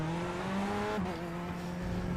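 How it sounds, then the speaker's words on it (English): Loud race car engine in the iRacing sim during a GT race, a steady droning roar with sustained harmonic tones that rise and fall slightly, filling the whole stretch without a break. "This is a loud-ass car"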